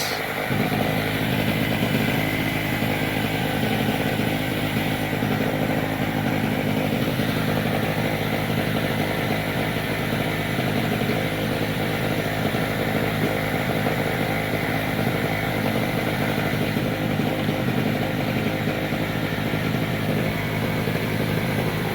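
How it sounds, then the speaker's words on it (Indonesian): A generator engine runs to power arc welding at about 120 amps with a 3.2 mm electrode. It gives a steady, loud, unbroken mechanical drone with a buzzy whine that holds constant the whole time. "kita akan coba tes seberapa kekuatan genset untuk ngelas"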